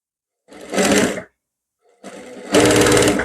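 A sewing machine runs in two short bursts, stitching around the embroidered work on a blouse neckline, with a pause between runs and no voices.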